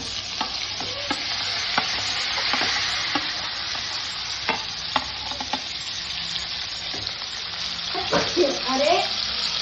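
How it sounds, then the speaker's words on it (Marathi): Brinjal pieces frying with masala in a home kitchen pan, a steady close sizzle broken by sharp clicks and scrapes of stirring, with a brief voice near the end. "वांगी मस्त फ्राय करून घ्यायची"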